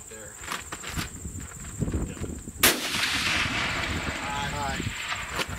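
A single sharp rifle shot cracks out at a long-range target outdoors, standing alone over a steady background hiss and faint ambient noise.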